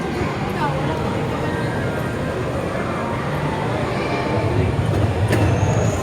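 A kiddie train ride in the play area of Abreeza Mall in Davao City rolls past with a continuous, busy rumble and clatter, mixed with the murmur of a crowded indoor space and nearby voices.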